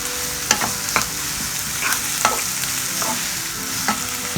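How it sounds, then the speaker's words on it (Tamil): Finely chopped onions sauté in a hot pan for Tamil tomato thokku, with a steady hiss of frying oil and several sharp stirring scrapes from a spoon against the pan, heard close and without talk. "நல்லா வெங்காயத்தை வதக்கணும்"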